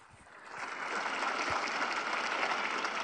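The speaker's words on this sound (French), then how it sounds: "Applaudissons le Chili et le Pérou." Applause from a large crowd swells quickly and holds as a dense, steady clapping roar.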